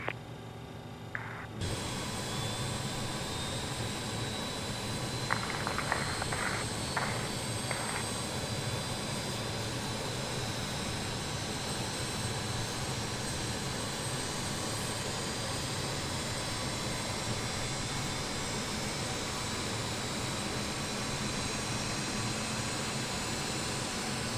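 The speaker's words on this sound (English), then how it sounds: "Waiting your confirmation for a good engine start" An Avro RJ70 jet engine starts up in Microsoft Flight Simulator 2020: a steady, loud broadband whine and roar begins abruptly after a short quiet moment and holds evenly, with a few faint clicks early on and no talk.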